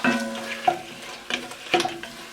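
Chunks of seasoned bison meat browning in a hot pan before a braise, a close sizzle punctuated by three or four bursts of stirring and scraping as pieces are turned, with no talking.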